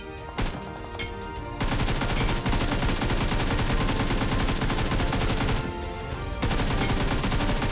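AKM assault rifle fire in PUBG Mobile, loud sustained automatic bursts with a brief pause before firing resumes, no voices.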